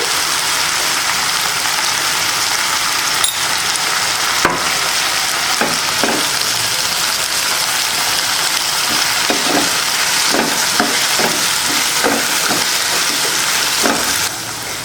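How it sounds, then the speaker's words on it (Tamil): Onions sauté in a pan for brinjal poriyal, a steady loud sizzle running throughout with scattered light clicks of a spatula stirring against the pan. "வெங்காயம் கொஞ்சமாக வதக்கினா போதும்"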